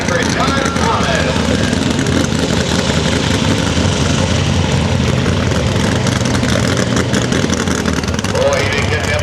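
A Super/Pro Stock pulling tractor roars at a tractor pull, its engine droning loud and steady without a clear rise in revs, while an announcer talks over it throughout.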